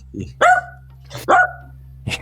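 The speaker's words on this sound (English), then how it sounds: "As you can tell, I got a dog here." A dog barks close by, giving two loud, throaty barks about a second apart and then the start of a third, over a steady low hum.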